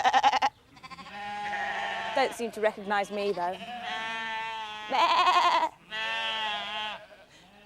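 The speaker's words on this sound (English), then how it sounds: "All the sheep have a different call." Farm sheep, ewes and lambs, bleat in a few loud, drawn-out calls close by, with a person talking between and over them.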